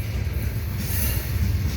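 A BNSF freight train rolls past close by with a steady low rumble of wheels on rail and a faint high metallic squeal above it, continuous throughout.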